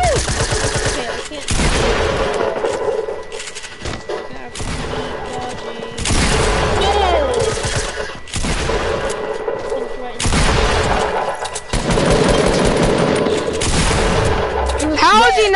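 Gunfire in a shooter video game, including pistol shots, comes in dense, loud bursts of rapid shots and booms almost without pause, with players talking over the fighting.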